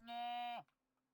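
A cow in a cozy farming video game gives a single clear, tonal moo lasting about half a second, close and loud, then cuts off into near silence.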